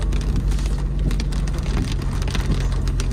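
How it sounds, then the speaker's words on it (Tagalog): Steady heavy rain pours down during Typhoon Kabayan in a mountain market area, a dense continuous hiss of drops drumming on surfaces with a low rumble underneath and no voices. "So talagang itinuloy na yung ulan, no? Hindi siya tumigil."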